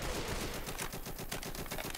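Rapid continuous bursts of automatic gunfire in the video game Left 4 Dead 2, a steady rattling stream of shots with no pauses.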